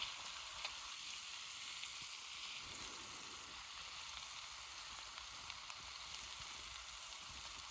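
Lamb chops sear in butter in a pan over an outdoor fire in the Appalachian woods, giving a faint, steady sizzle and crackle with a few small pops, no talking.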